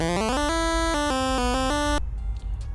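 Bright, buzzy 8-bit chiptune pulse and square-wave notes stepping through a quick melody, crisp and up front, cutting off abruptly into quiet.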